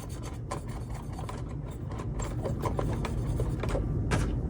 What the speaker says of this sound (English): I'm taking Q-tip with rubbing alcohol. I'm just going to clean the board.